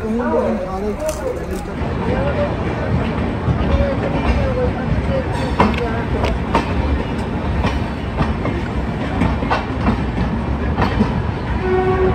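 A late-running passenger train pulls into Bardhaman station at night with a steady loud rumble and rail clatter, faint horn notes and platform babble, people talking throughout.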